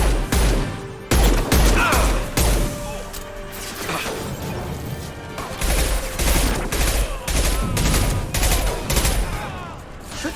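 Gunfire in the Mass Effect Legendary Edition game: loud, dense bursts of shots and heavy impacts across the whole stretch, with sharp repeated cracks and rumbling explosions.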